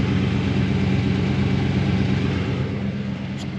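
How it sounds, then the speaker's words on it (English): A Camaro engine idling with open exhaust, a steady deep rumbling drone with a faint uneven throb, close and loud throughout with no talk. "Look at this open exhaust we got."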